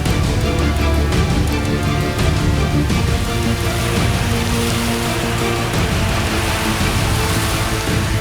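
Heavy rain pours steadily during floods sweeping from hills to plains, a dense, loud, unbroken hiss with a low rumble beneath and no voices.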